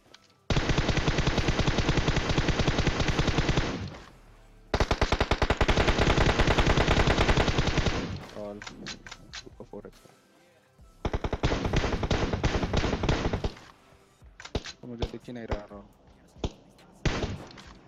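Long, loud bursts of rapid automatic gunfire in PUBG Mobile, separated by short pauses, followed by shorter sporadic volleys and single shots.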